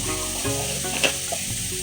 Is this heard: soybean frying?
yes